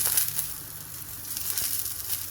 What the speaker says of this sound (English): But I decided to griddle them, get some nice char lines on them.